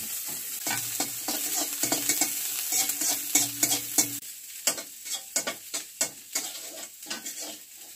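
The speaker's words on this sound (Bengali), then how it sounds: "তো মুড়ি ভাজা হয়ে গেছে" Puffed rice frying with onion and green chilli in a pan, a soft steady sizzle broken by repeated scraping stirs of a spatula, close and fairly loud, with no voices.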